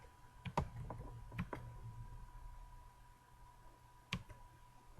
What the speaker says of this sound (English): So I'm going to type in increase